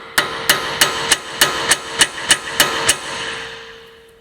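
Conical washers are hammered out of a transmission, about nine sharp metallic blows in a steady rhythm, close and loud, with a ringing tone lingering after the last strike.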